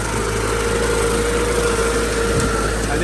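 A Kubota 4x4 ride-on lawn mower with a four-cylinder, 28-horsepower engine runs while cutting thick grass, a loud, steady, close engine drone with a constant hum and no break.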